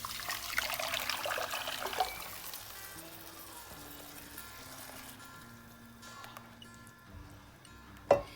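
Water trickles and pours steadily into ground masala for Chettinad fish curry, soft and close, ending with a faint clink.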